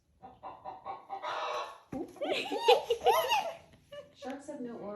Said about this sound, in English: A chicken goes.